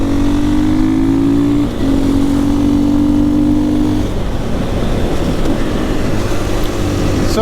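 2021 KTM EXC-F 500 motorcycle on supermoto wheels riding twisty roads, its engine droning loudly and steadily close up, pitch rising then settling as it accelerates, with wind noise throughout.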